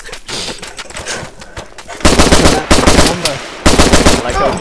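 Video game gunfire in a multiplayer shooter, dense rapid bursts of automatic shots, loud and close, building from scattered firing into heavier continuous volleys.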